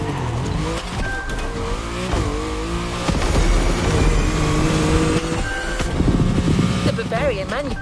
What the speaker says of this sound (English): We have prepared a classic for you from a very famous German brand, BMW Z4 M40i.